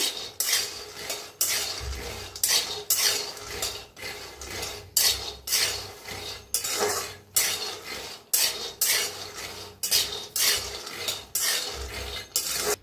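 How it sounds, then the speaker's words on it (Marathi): Peanuts dry roast in a pan, stirred continuously so they rattle and scrape against the metal in steady rhythmic sweeps, close and fairly loud, with no talking. "शेंगदाणे बी चांगलं भाजायचं।"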